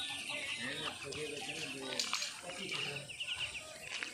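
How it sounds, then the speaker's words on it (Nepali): A large Chinese goose gives a run of repeated honking, cackling calls at moderate distance, with faint voices in the background. "ठुलो खालको हाँस रहेछ चिनी हाँस"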